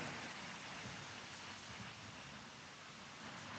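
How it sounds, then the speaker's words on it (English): Rain falling outdoors in a steady, dense hiss with no breaks, soft and even throughout, with no one talking. "I love the rain, the coolness of it."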